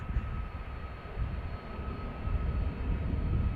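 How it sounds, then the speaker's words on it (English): Sixteen-year-old Delta Airbus A330 bound for Boston, waiting at the runway 36L threshold at Amsterdam Schiphol, gives off a steady, low jet-engine roar heard from a distance, continuous and without talk. "In the meantime, there's Delta A330 on the threshold"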